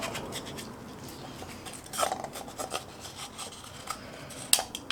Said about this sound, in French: on va extraire le vieux joint torique